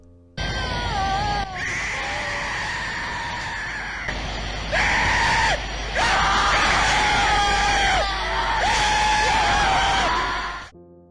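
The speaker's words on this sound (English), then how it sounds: "they round up patients from mental asylums and record them screaming" Mental asylum patients recorded for an album scream and yell loudly and continuously, with several shrill wailing cries that rise and break over a harsh, distorted noisy backdrop for about ten seconds.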